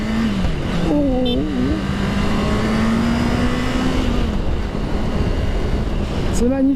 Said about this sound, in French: ce bruit que ça fait, le 4 cylindres